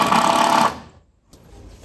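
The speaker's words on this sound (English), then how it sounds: "I'm just running little screws in for now." A power driver runs small screws into wood during house construction, a loud whirring burst of motor noise that cuts off abruptly, followed by a short pause and quieter background sound.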